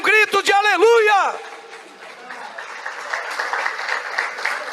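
Church congregation applause after a call to praise, beginning under a voice and then settling into a sustained spread of clapping and cheering that continues to the end.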